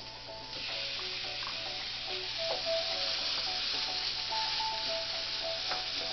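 Leftover pot roast beef being reheated in an unrinsed pan: a steady, close, continuous sizzle and hiss with faint crackles and light scraping throughout.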